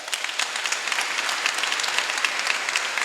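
A church congregation at a Sunday Mass applauds the Lord, a dense, continuous burst of clapping from many hands filling the room at steady loudness.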